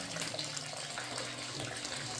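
Hot water pours steadily onto akamu, a fermented corn pap, during a village breakfast for a large family, a continuous gushing, splashing stream at close range with no talk.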